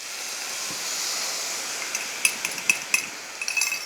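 Metal spoon clinking and scraping against a pan while a liquid mixture is stirred into a tofu scramble, a steady hiss giving way to a few sharp, close taps near the end.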